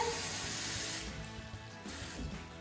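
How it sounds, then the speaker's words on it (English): Water is poured into a jar of vinegar pickle brine, giving a soft, steady splashing trickle that lasts a couple of seconds, close and fairly quiet. "So then you're just gonna add some water."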